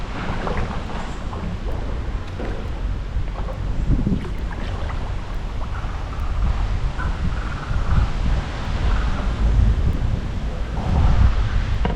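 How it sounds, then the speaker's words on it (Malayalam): Strong wind roars steadily across the microphone with a low rumble, surging louder in gusts toward the end, over water lapping against a boat on a backwater lake. "നല്ല കാറ്റടിക്കുന്നുണ്ട്"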